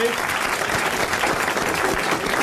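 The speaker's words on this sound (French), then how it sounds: "Vous allez applaudir Monsieur Marchesani de Boulogne." A French television studio audience in 1982 applauds loudly and steadily, a dense, continuous wash of many hands clapping throughout.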